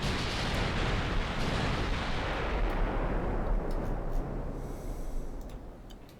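Naval guns aboard the British battleship Nelson firing in a classic-era naval warfare game: a dense, continuous roar of heavy booming shots that rumbles steadily, then eases slightly toward the end, with no talk.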